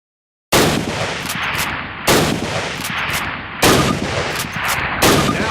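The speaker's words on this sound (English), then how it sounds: "fire 2 rounds at your target" Four loud Springfield rifle shots fired at a target in the Call of Duty game, each sharp crack trailing into a long echoing decay, spaced about a second and a half apart with no talk.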